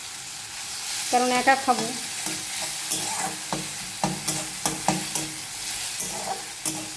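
Gemi saag greens fry and get stirred in a pan, giving a steady close sizzle broken by repeated scraping clinks of the spoon. A brief voice speaks partway through.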